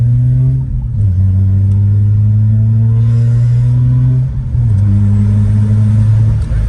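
A Mazda's engine pulls hard on a test drive with new ignition coils, plugs and MSD wires, a loud steady drone rising in pitch through the gears with brief dips at the shifts.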